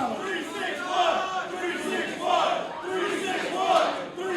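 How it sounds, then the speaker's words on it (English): A wrestling crowd at a Corpus Christi match chants 361 in rhythmic waves. The voices rise in three loud, swelling repetitions that echo through the arena over a murmuring background. "I started to hear the crowd chant 361, which is Corpus Christi's area code for Josh Galvan."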